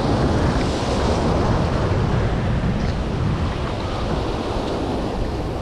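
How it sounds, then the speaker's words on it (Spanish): Rough sea waves break on the shore during shore jigging in Sri Lanka, a loud, constant roar of surf with wind buffeting the microphone, no voices. "Está el mar bastante movido, como veis, ¿eh? Hay unas olas aquí que dan miedo."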